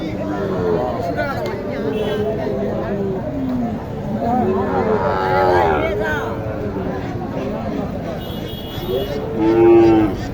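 Cows moo repeatedly amid a busy cattle market crowd in Naogaon, their low drawn-out calls rising over constant chatter and voices nearby.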